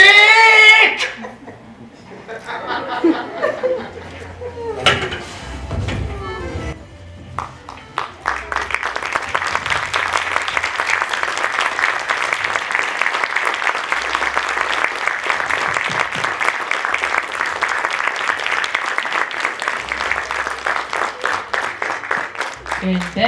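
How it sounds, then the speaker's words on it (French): Audience applause after a school theatre play staged at a resto-bar, a dense sustained clapping that swells in and runs steadily for many seconds; a few voices and scattered cries are heard before it begins. "Une belle main d'applaudissements pour la spectaculaire."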